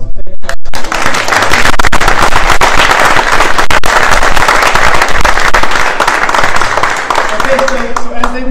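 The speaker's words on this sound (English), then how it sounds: "I want to give them a big round of applause." Loud, sustained applause and cheering from an audience at a fire and rescue station ribbon-cutting ceremony, dense clapping filling the whole stretch after a brief pause at the start.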